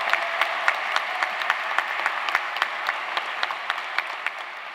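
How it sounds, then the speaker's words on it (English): Loud, sustained applause from graduates and guests at a spring 2021 UCF commencement ceremony, dense clapping with sharp individual claps standing out across the whole stretch. "Let's have a round of applause."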